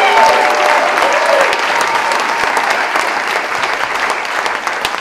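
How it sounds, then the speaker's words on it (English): Audience at a jazz weekender concert at Quail Lodge clapping loudly and steadily for about five seconds, a dense continuous applause with faint voices mixed in. "So please give her a big round of applause."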